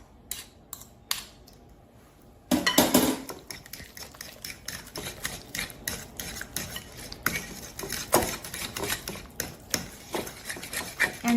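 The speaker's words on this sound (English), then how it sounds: "mix it together with eggs" Rapid clinking and scraping of a utensil stirring pumpkin dump cake batter with eggs in a mixing bowl, quiet taps at first, then a steady run of busy, close scraping strokes with no speech.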